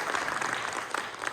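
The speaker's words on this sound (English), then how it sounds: "So if we give a very round of applause for all of them" An audience at the Alabama Center for the Arts applauds a panel of artists: a brief, steady wash of clapping, moderately distant and fairly soft, with no one speaking over it.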